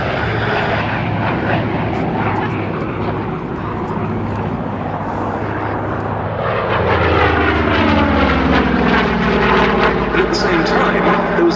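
A Vought F4U Corsair with a 2,000 horsepower Pratt & Whitney R-2800 Double Wasp radial engine flies at an air display at Duxford, a loud, deep propeller roar that swells and shifts in pitch as it passes close by.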